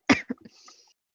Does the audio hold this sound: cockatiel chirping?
no